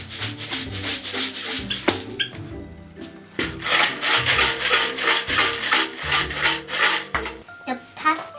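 A homemade shaker filled with dry pasta is shaken in quick rhythmic bursts, giving a loud, rattling, rasping sound with brief pauses between shakes and no talking.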